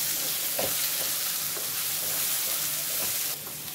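Eggplant frying in a pan with salt, turmeric and chili powder added, giving a steady loud broadband sizzle with a few soft stirring scrapes, alone without talk.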